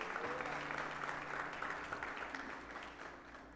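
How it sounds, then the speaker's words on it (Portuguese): A church congregation applauding during a sermon, a steady wash of clapping that fades gradually toward the end, fairly distant and soft. "Tu pode aplaudir o Senhor Jesus por esse perdão maravilhoso?"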